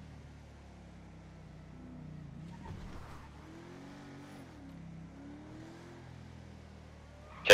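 A Porsche's engine hums and revs in a GTA 5 roleplay police chase, a low steady drone with rising and falling pitch, fairly faint, ending in a sudden loud burst.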